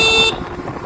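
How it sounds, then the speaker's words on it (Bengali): An Ola Roadster X Plus electric motorcycle gives one short, loud, steady electronic horn beep that cuts off after about a third of a second. "হর্ন বাটন আমি দেখিয়ে দিই"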